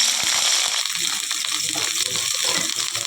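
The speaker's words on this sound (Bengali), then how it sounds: "আমি ফুলকপিগুলো ভেজে নেব।" Cauliflower florets fry in hot oil, giving a steady bright sizzle and hiss with a few light clinks and bubbling pops close up.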